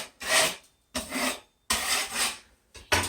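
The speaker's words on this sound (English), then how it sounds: "I run the putty knife over it sort of gently just to take off any hard pieces sticking out" A putty knife rasps across dried drywall compound to knock off hard lumps, four close, gentle scraping strokes separated by short pauses.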